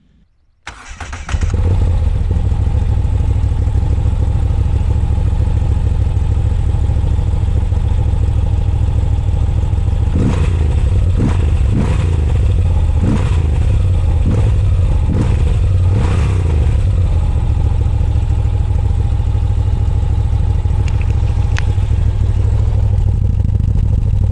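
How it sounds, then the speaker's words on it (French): A Moto Guzzi V7 Sport motorcycle engine starts up and settles into a steady, loud idle close by, with a run of sharp throttle blips and revs in the middle before it returns to idling. "je t'avais promis de te faire écouter le bruit de cette moto, le son plutôt que du bruit"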